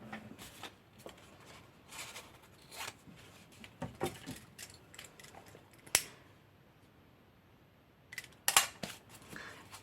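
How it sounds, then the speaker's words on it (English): Scissors snip repeatedly through excess paper while a paper flower bridal bouquet is trimmed, with crisp close cuts, a few rustles and handling clicks between them, and no talking. "I can cut this excess away now"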